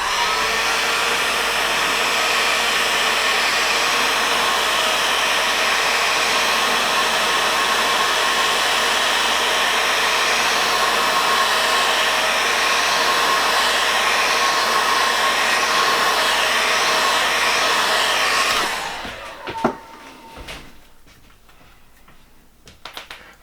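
A hair dryer blows loud and steady over airbrushed red poppy paint for nearly twenty seconds, then cuts off, leaving faint clicks and light handling noises in a quieter room.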